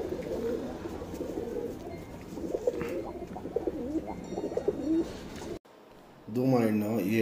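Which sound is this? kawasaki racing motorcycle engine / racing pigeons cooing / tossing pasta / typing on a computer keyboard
racing pigeons cooing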